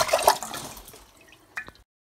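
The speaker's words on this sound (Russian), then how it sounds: "не урони, только телефон Лиза, не надо, да над водой не держи" An iPhone splashing into cold open water: a sharp splash and burst of churning water up front, fading to soft trickling, then a brief second slosh before the sound stops.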